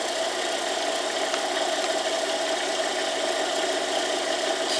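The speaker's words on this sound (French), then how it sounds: "Ça, c'est un moteur" A 575-volt electric motor running with no load, giving a steady, even hum with a broad whirring hiss, loud and unchanging throughout with no speech.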